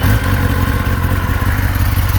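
A stock 2024 Kawasaki Ninja ZX-10R sport bike with 611 miles runs nearby, its engine giving a loud, steady, slightly clattery idle throughout the short stretch.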